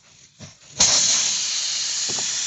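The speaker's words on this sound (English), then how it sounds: "And you're going to start to hear that air" Air hissing out of a punctured tire during a plug repair, a sudden loud, steady rush of escaping air that starts abruptly after a few faint scrapes and continues unbroken.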